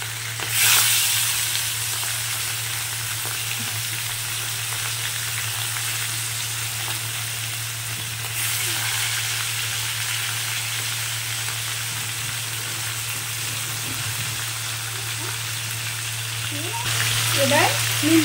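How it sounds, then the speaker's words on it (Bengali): Pomfret fish frying in hot oil in a wok, a steady close sizzle with occasional stirring clinks and a low constant hum underneath. "কড়াইটি গরম হয়ে গেছে, এবার আমি মাছগুলো দিয়ে দেব।"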